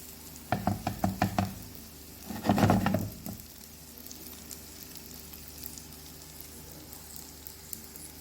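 Cheese sandwiches sizzle in a little oil on a grill pan, opening with a quick run of clattering knocks and a burst of crackling before settling into a faint steady frying hiss.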